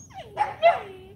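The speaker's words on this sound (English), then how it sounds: "Bark." A Cane Corso dog gives two short yelping barks on command, close and fairly quiet, with a whiny rising tone between them.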